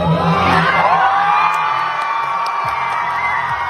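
A large audience cheers, whoops and shouts in a loud, sustained burst of excitement, the clamor staying dense and close for the whole few seconds.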